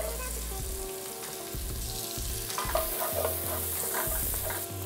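Celery and hot peppers sizzle as they fry in a pot along with onions, with a spoon stirring and scraping now and then, close and steady.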